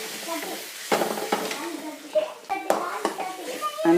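Ground masala stirring and frying in a pan over a low flame: a soft sizzle under repeated scraping strokes of a spoon against the metal, close up, with faint speech in the background.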